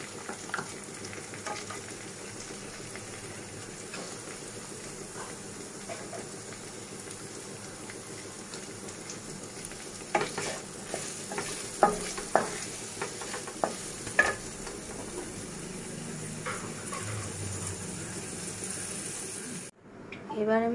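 Chopped onions sizzle steadily in hot oil in a pan, a soft continuous frying hiss with intermittent stirring clatter and scrapes, ending with a brief louder knock.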